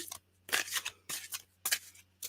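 Tarot cards being shuffled during a reading, a series of crisp, riffling bursts of card noise at irregular intervals, close and fairly quiet, with no voices.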